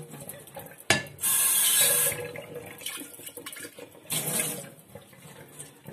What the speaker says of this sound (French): Alors rincez bien pour pas laisser le goût de vinaigre qui n'est pas toujours forcément agréable.